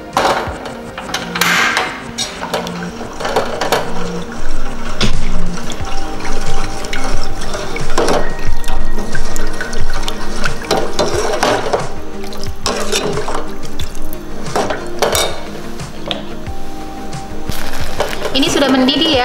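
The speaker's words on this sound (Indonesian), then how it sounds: "akan kita masak sampai mendidih" Oreo pudding mixture heating in a pot until it boils, a steady loud wash of bubbling, sizzling liquid noise that runs throughout without pause.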